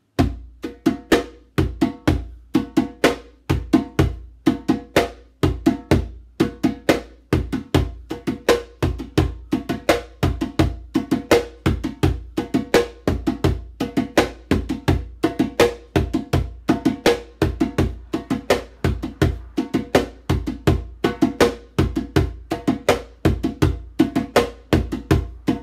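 A hand-played drum beat called the Strawberry Groove, split between right and left hands, runs as a dense, steady stream of crisp strokes with accented hits and a gradually building rhythm, close and clear with no talking.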